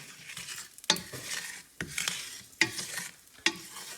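Hing and chili powder being stirred into very hot oil for Indian dal, a soft sizzle broken by four sharp spoon clinks against the pot, close and with no talk.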